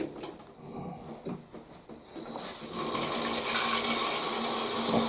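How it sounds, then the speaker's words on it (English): Water starts running from a tap partway through, a steady broad hiss that grows louder and fills out, preceded by quieter handling clatter. "Let's get the water on."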